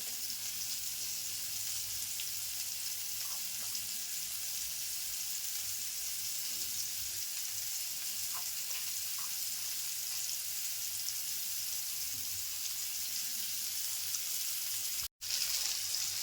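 Coated fish, including large prawns, frying in a pan, giving a steady broad sizzle that runs throughout at moderate loudness with faint stirring touches, no talking.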